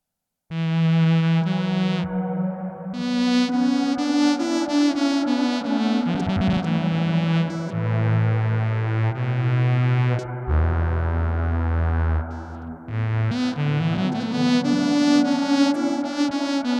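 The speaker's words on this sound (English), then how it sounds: "I've got a basic kind of shimmer reverb set up" Sustained electric violin notes bathed in a shimmering, octave-up reverb wash, smooth gliding phrases ringing out loud and continuous.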